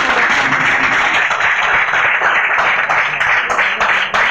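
Crowd applause greets a district education officer at a Pakistani community gathering, a dense, steady wash of many hands clapping throughout, loud and continuous with no pauses.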